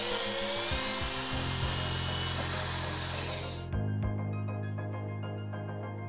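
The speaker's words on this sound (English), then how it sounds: "We recommend drilling a 3/32 pilot hole for the supplied self-tapping screw." A high-pitched power drill whines steadily while drilling a 3/32-inch pilot hole for a self-tapping screw on a 2008 Dodge Nitro, then cuts out, followed by fainter mechanical ringing and hum.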